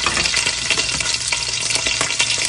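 Oil sizzling hard in a pan for a quick canned tuna dish, a dense, loud, continuous hiss with small crackling pops, heard close up and alone.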